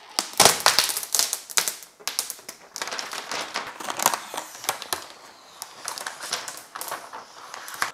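Protective plastic film peeled off a teleprompter monitor, heard as close, dense crackling and rapid ticking in uneven bursts, with short pauses between pulls and no talk.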